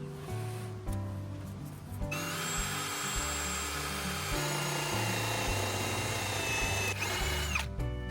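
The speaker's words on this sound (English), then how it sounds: "Hopefully we got a nicely drilled hole." A power drill bores a hole through a floor that has vinyl flooring, a steady loud whine that rises in pitch as the bit spins up and runs continuously for several seconds with no talking.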